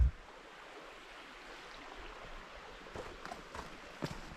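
A stream runs beside a flat campsite on the Pinhoti Trail, a steady, faint rushing wash with a few soft knocks and clicks toward the end, and no voices.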